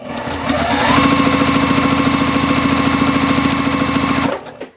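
A sewing machine runs steadily, stitching quilt block triangles with a fast, even mechanical chatter that holds for about four seconds, then stops.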